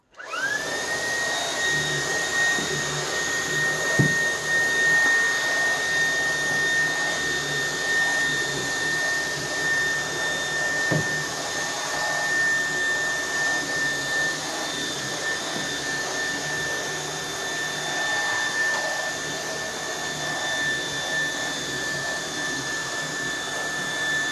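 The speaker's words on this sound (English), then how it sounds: "What can I vacuum up now?" A Dreametech T10 cordless vacuum cleaner runs continuously on a couch and stairs, a steady close whine with a high-pitched motor tone and occasional bumps as it moves over surfaces.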